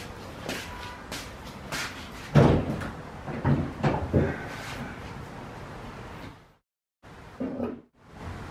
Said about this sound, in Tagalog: Pakibuksan nga yung hood